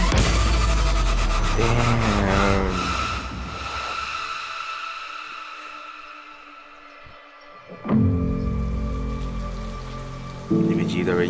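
Rain falling in the Honkai: Star Rail Acheron trailer, a steady wash of drops mixed with loud music and deep bass, with a brief lull before the score swells again.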